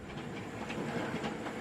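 A model railway locomotive runs along its track, giving a steady close rumble with soft rhythmic clicking from the wheels, with no talk.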